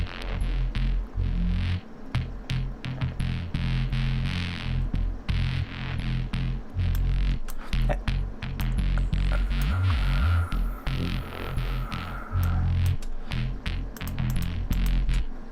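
Deep synth bass made in Serum with a delay effect, dense low throbbing notes repeating steadily throughout, echoing tails smearing between hits, loud and continuous with no voices.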